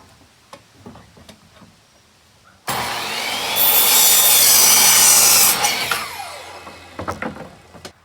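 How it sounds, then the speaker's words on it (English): A power cutoff saw slices through a wooden board for building sawhorses, a sudden loud, close whine and rasp lasting about three seconds before winding down, with quiet handling knocks before and after. "I've lost a clip from my cutoff saw, so be very careful when you're doing this"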